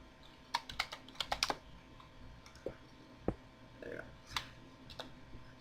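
Computer keyboard typing, a quiet scatter of sharp clicks arriving in quick bursts with short gaps, faint and close.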